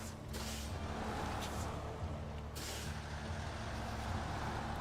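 A heavy truck brakes in the SnowRunner video game, with sharp hissing air-brake bursts over a constant loud engine rumble.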